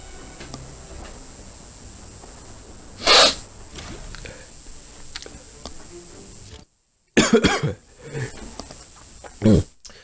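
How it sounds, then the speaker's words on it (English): A few sharp coughs or throat-clearing bursts, spaced apart, close to the mic over quiet background hiss. "Sorry if me coughing gets annoying."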